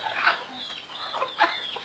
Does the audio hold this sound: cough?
no